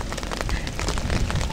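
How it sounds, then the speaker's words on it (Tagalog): Heavy rain with large drops pelts down steadily at a fishing spot in Bulacan, a dense, continuous patter that grows slightly louder toward the end. "At malakas na ang patak ng ulan. Malaki ang mga patak."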